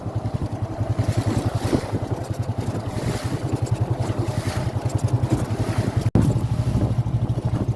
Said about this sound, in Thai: นั่งเรือเล่นคลื่นไปก่อนครับ